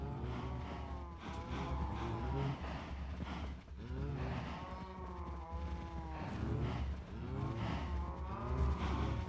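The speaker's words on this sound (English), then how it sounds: "Cow in the sheep pen." Cows moo repeatedly in a farming video game, several long drawn-out calls overlapping one another against a steady background of game noise.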